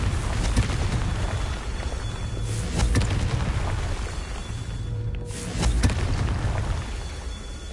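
Fiery Confringo spell blasts in Hogwarts Legacy, a dense roaring burst with crackling bright bursts near 2.5–3 and 5.5–6 seconds, loud and continuous throughout.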